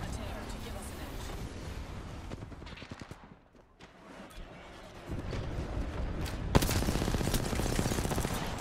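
Gunfire in the Apex Legends battle royale, rapid bursts of shots running through the clip and growing louder and denser toward the end, with a sharp crack near the close; voices talk over it.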